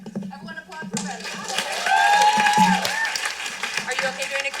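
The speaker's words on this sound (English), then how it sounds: "Everyone applaud for Brendan." An audience at a young playwrights' festival cold reading applauds after a play ends, clapping swelling in the middle and continuing steadily, with voices and cheering mixed in.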